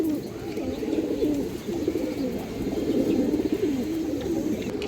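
A first-pair male Musoldom pigeon and others coo in continuous, overlapping low rolling calls, close and steady for the whole stretch with no speech.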